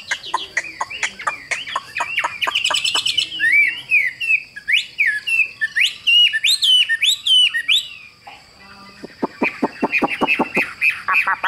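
A caged Tam Hoàng songbird sings a rapid, dense run of sharp chirps and warbling trills, loud and close, pausing briefly before resuming with a quick stuttering burst of notes.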